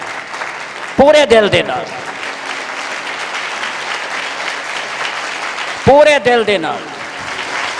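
A church congregation claps loudly and steadily during a sermon while a voice rises over it twice in short chanted phrases, the hand-clapping continuing as a dense wash beneath.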